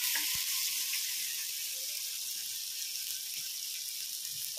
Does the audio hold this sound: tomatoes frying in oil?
yes